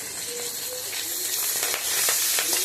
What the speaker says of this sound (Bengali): মাছগুলো খুব কড়া করে ভাজবো না, এই মাছগুলো হালকা করেই ভাজবো